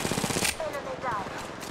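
Rapid automatic gunfire bursts from a mobile battle royale shooter, Apex Legends Mobile, loud and close in the first half-second, followed by fainter shots and game sound effects.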